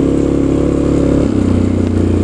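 Engine of a Sharmax 650 Force four-wheel-drive ATV revving on a muddy track, a loud steady drone that briefly dips and shifts pitch partway through, no talk.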